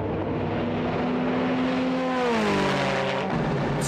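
A Toyota Supra GT500 race car accelerates hard in third gear in a 0-400 run against a Porsche, its engine note climbing in a rising whine over a loud, steady roar, with no talking.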